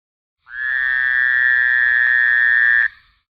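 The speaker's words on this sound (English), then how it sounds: "Fowler's toad," Fowler's toad gives a single loud, steady nasal buzzing trill lasting about two and a half seconds, close and alone, ending abruptly.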